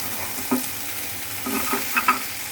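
Potato fry is dry-roasting in a pan: a soft, continuous sizzle with a few brief spatula scrapes and stirs, heard up close and alone.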